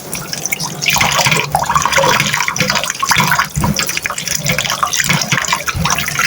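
Fried vermicelli rinsed in water, with close, continuous splashing, pouring and dripping as the strands are swished and washed, loud and unbroken throughout with no speech.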